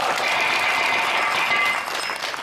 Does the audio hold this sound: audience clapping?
yes